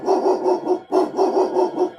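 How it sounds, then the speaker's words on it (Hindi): Street dogs crying out at night, a loud, close run of repeated whining yelps in quick rhythmic bursts, pausing briefly before a second run. "गली के सारे कुत्ते रोने लगते हैं"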